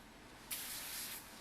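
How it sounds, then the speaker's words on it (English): A single burst of spray starch mists onto a piece of fabric, a short, close, airy hiss that starts sharply and fades after about a second. "I'll spray another piece of fabric with some spray starch."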